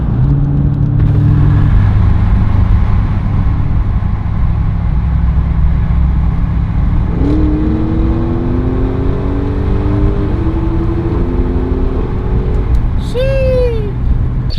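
A Racechip-tuned BMW M4 roars steadily nearby, its engine note climbing through rising revs in the second half before a sharp upward sweep near the end, with voices talking over it.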